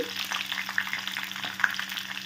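Steady crackling sizzle of papaya and potato frying in a hot pan, with occasional soft scrapes of stirring, close and continuous.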